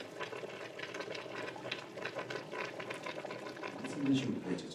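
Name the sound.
couscous steaming in a pot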